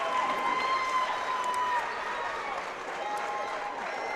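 Crowd at a county high school basketball finals cheering and applauding, a continuous wash of clapping and crowd noise under a commentator's voice that stays steady throughout.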